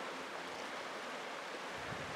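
A rushing Alaskan river pours past close by as a broad, continuous roar of churning water, loud and unbroken, with wind buffeting the microphone.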